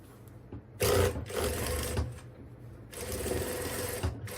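A sewing machine stitches a zippered fabric bag in two runs of fast, steady mechanical whirring, loud and close, with a brief pause between the bursts.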